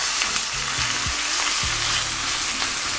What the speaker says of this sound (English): When nice and hot, in with your onions.